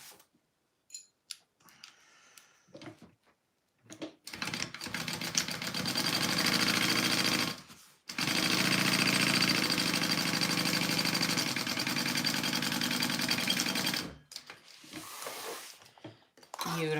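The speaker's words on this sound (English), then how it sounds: "I'm gonna sew this pocket together here." A home sewing machine stitches a pocket onto the front panel of a Zynah garment, running in two long steady whirring passes with a brief stop between them, framed by short clicks and handling noises, while someone talks.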